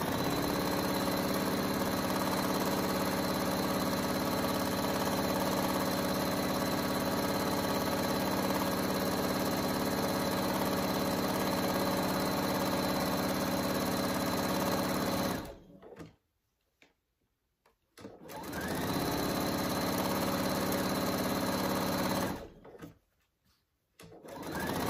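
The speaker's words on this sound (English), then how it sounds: "Now we're going to sew the outer piece together." A sewing machine stitching the outer fabric piece of a hanging kangaroo pouch bag, a steady close mechanical whir running continuously, pausing briefly twice near the end before resuming, with no voices.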